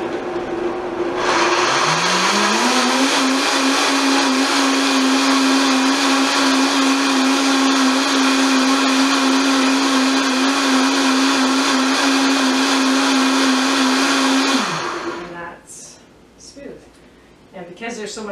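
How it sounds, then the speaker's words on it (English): A blender set to its lowest speed purees garlic scapes with plenty of liquid, a loud steady whir that starts, rises in pitch briefly, then holds for about twelve seconds before cutting off, followed by faint talk. "so I'm just going to blend it"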